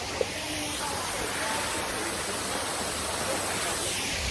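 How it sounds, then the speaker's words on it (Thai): Steady broadband rush of a waterfall in Ubon Ratchathani, heard close and continuous on a forest walking trail, with no pauses or clear voices over it. "เรามาอยู่น้ำตก"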